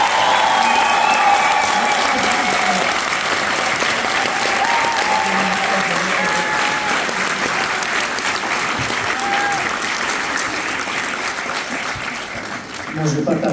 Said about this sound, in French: Fait que je veux qu'on applaudisse trop fort ces personnes-là.